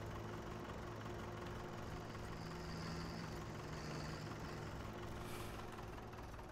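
Tractor engine idling and reversing in Farming Simulator 17, a constant low diesel hum with a faint hissing whine partway through, steady and moderately quiet with no voices.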